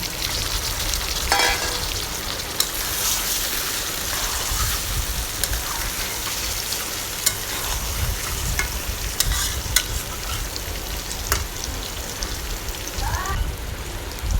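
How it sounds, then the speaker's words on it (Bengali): Onions fry in hot oil with boiled eggs added, a loud, continuous close-up sizzle with crackling pops and occasional stirring clatter throughout, no voices. "তেলের সাথে পেঁয়াজটা আমি ভেজে নিচ্ছি। এখন পেঁয়াজের ভিতরে আমি সিদ্ধ করা ডিমগুলো দিয়ে দেব।"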